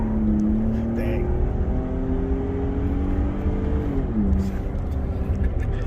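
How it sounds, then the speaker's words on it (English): A Ford 3.5 EcoBoost truck fitted with a high-flow turbo exhaust adapter and 3-inch downpipes accelerates hard through first gear with its tires spinning, a loud continuous roar with rising engine tones as people talk. "It's moving while it's spinning the freaking tires throughout first gear"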